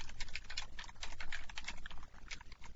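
Code being typed on a computer keyboard: a quick, uneven run of light key clicks and taps, close up and fairly quiet, continuing steadily with brief pauses and no talking.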